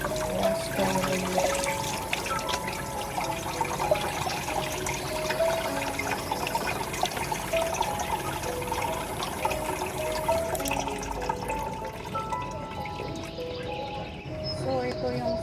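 Tap water runs steadily while a pineapple is washed, a continuous close splashing and trickling with light knocks of handling, and a person talks over it at times.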